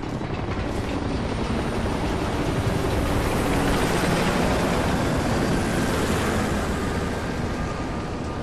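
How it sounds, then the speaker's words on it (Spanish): A helicopter comes in to land in Call of Duty Ghosts, its steady, loud, dense rotor roar and engine rumble filling the clip without a break or any voices. "Helicóptero aterrizando."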